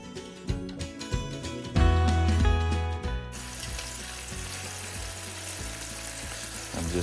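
Bacon sizzles and crackles in a frying pan, with scraping and shuffling as the strips are moved around, then settles into a steady, dense hiss of frying fat.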